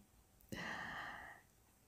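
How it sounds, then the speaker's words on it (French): A single short, breathy yawn-like exhale from a nearby dog, rising suddenly and fading after about a second, in an otherwise quiet room. "le petit bruit que vous entendez, c'est mon chien qui bâille"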